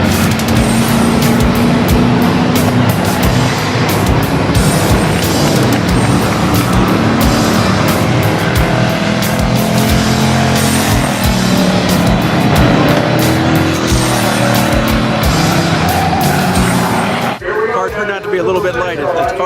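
A race car engine rumbles and revs at low speed for a long stretch as the car is eased onto the scales, with people talking over it throughout.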